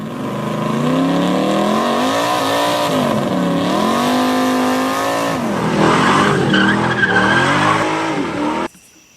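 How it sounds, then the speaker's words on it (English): A car's tire spins and squeals loudly for about eight seconds, a sustained wavering screech with engine revving beneath, ending abruptly. "Here comes the spinning tire"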